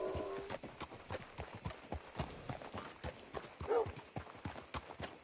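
Horse hooves clip-clop in Red Dead Redemption 2, a series of distinct hoof strikes at an uneven walking pace, fairly close and moderately loud, with a short whinny-like sound partway through.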